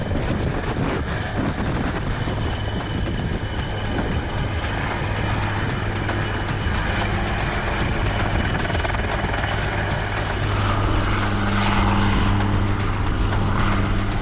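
Helicopter at Siachen base camp, a dense, steady rotor and engine roar close by, loud and continuous throughout, swelling slightly toward the end, with no talk over it.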